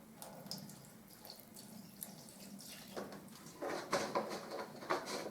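White spirit trickles and splashes gently into a container, with faint clinks and a brief louder pour near the end, heard close up without talking.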